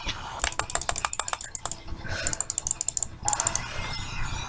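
Quick bursts of clicky computer keyboard typing, several rapid clusters of keystrokes separated by brief pauses, close and crisp, with a voice talking at times.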